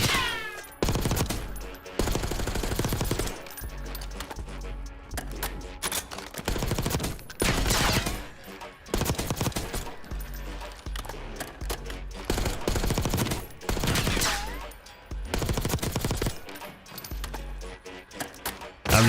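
Video-game gunfire at the Warzone shooting range, loud sustained automatic bursts broken by short pauses, with long volleys rattling back to back over roughly twenty seconds.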